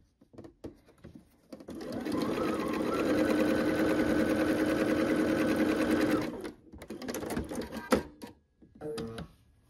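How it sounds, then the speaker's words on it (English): A sewing machine runs steadily for about four seconds stitching a quilt block seam, loud and close, with handling clicks and brief pauses before and after. "Sew the seam."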